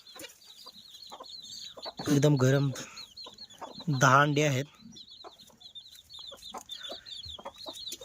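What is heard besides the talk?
broody hen clucking while sitting on eggs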